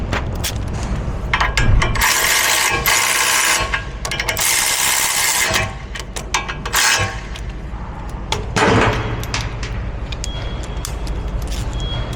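A ratchet clicks in quick repeated bursts while tightening brake caliper bolts on a Mercedes Sprinter van, close and loud in a workshop, with brief pauses and metallic handling noises between strokes.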